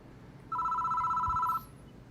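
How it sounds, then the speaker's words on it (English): A telephone rings in a phone booth in a horror video game, one steady electronic double-tone burst lasting about a second over quiet ambient noise, with no voices. "The phone is ringing."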